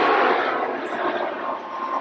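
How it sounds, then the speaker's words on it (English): A fixed-wing airplane flies low past a former Space Shuttle landing strip at Kennedy Space Center, a loud broad engine roar that swells close at first and then slowly eases. "Here comes an airplane."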